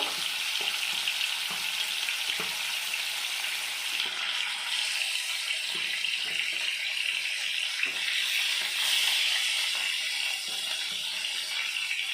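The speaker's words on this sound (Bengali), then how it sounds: "মাছগুলো আমি দিয়ে দিচ্ছি মাছগুলো ভালো করে ভেজে নেব" Village pond fish frying in hot oil, a dense, steady hiss and crackle close by with faint occasional knocks, no one speaking.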